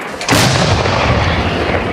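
A single powerful M-46 field gun blast erupts suddenly in combat, followed by a long, loud rumbling roar that fills the rest of the moment.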